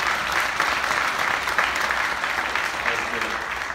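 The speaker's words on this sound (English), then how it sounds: "I feel weird when you clap for that." An audience claps at a college discussion event, a dense, steady wash of applause that holds at an even level from start to finish with no voices over it.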